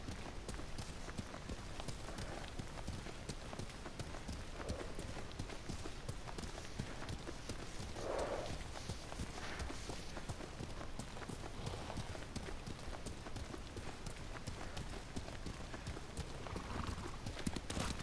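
Horse hooves gallop in the samurai game Ghost of Tsushima: quick, steady, close hoofbeats pound on without a break, with a faint snort now and then.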